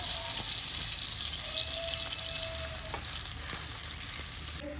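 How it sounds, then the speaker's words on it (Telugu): Two medium chopped onions fry in a pan for chicken biryani, a steady soft sizzle with brief stirring scrapes throughout and no talk. "2 మీడియం సైజు ఉల్లిపాయలు కట్ చేసుకొని వేసి వేయించుకోవాలి."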